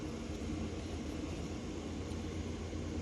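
An air purifier runs steadily in a resin crafting room, giving a constant broadband whooshing hum with a low rumble, unbroken and fairly quiet throughout.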